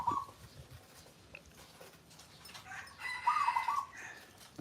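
A rooster crows from a backyard farm, a fairly distant crow at the start and a louder, longer one near the end, over faint outdoor ambience with no talk.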